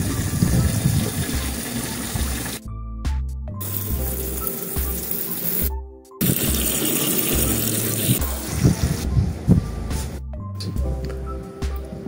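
Water runs and splashes loudly while plastic underbed storage boxes are washed, a continuous rushing gush broken by a few brief gaps, with mechanical tones mixed in.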